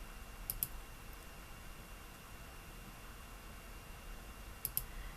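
Computer mouse clicks while editing an e-commerce web page, sparse faint sharp double clicks near the start and again near the end over quiet room hiss.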